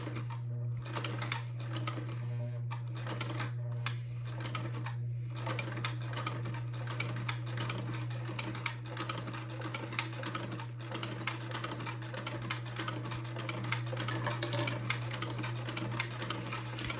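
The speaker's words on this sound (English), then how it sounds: "And then I will proceed to make another buttonhole." Sewing machine fitted with an old-fashioned buttonholer attachment stitches a buttonhole in fabric, a steady, fast mechanical clatter with a constant hum running throughout, close and continuous.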